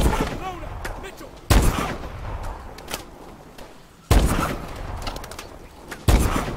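Gunfire in Call of Duty: Advanced Warfare, heavy booming shots landing in three loud blasts, each trailing into a long rumbling decay, with faint scattered sounds between.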